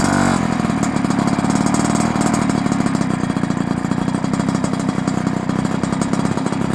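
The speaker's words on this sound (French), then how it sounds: "le petit pot fait un super bruit" Piaggio Ciao moped engine idling through a small exhaust pot, a loud, steady, rapid putter held close up, alone without talk.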